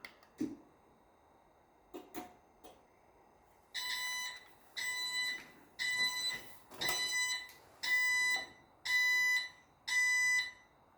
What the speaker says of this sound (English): For some reason, it gives me a 7 beep, which means encoder error.